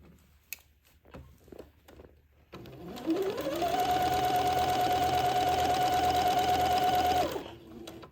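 A sewing machine runs a straight stitch through fabric, first a few soft clicks as it starts, then a steady, rapid whirring hum that holds for about four seconds and winds down.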